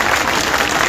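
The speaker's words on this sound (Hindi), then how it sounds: "उनके नाम से जोरदार ताली बजा दीजिए।" Crowd applause at an outdoor street-corner political rally, a steady dense wash of clapping at close range throughout, with no voices over it.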